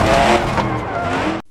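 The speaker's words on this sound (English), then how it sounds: "crash test, Tesla" A Tesla car in a BeamNG.drive crash test, with loud, close tire screech and engine roar running continuously before cutting off abruptly.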